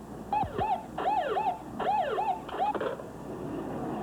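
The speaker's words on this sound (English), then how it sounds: "Red lights and sirens." Emergency vehicle sirens on approaching cars with red lights sound in rapid repeating wails, a few quick whooping cycles over a faint rumble, with no talk.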